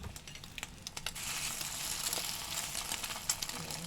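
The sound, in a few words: slice of bread with egg frying in a pan with butter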